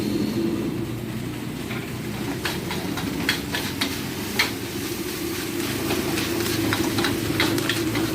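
Nasi goreng being stir-fried in a wok at a street stall, a steady sizzle with sharp metallic scrapes and clinks of a spatula against the pan, close and continuous.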